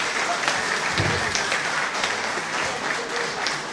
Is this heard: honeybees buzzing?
no